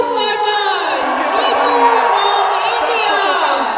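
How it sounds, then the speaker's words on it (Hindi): Boxing arena crowd at the IBA Women's World Boxing Championships 2023 cheers and whoops in a dense, continuous roar of voices, sustained and loud throughout, with a commentator talking over it. "दर्शकों का उत्साह, खड़े होकर ताली बजा रहे हैं"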